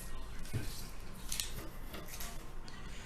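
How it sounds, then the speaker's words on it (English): Scissors trim a diamond painting canvas to size for a sticker maker, giving a few faint, quiet snips against a soft room hush. "trimming this down so it fits in that small space for my sticker maker"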